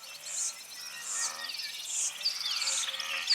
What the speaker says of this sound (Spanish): El canto de los insectos produce una gran variedad sonora.